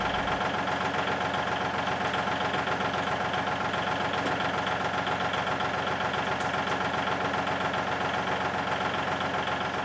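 The engine of a 1938 GMC truck idles steadily and loudly, a continuous rumbling drone with a faint rhythmic knock, heard close up with no talking.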